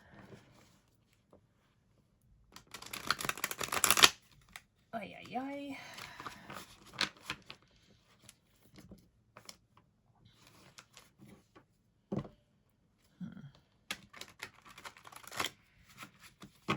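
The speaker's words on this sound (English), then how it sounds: "I'm going to shuffle." Tarot cards being shuffled by hand in short bursts of riffling and sliding, fairly close, with brief pauses and a person talking in between.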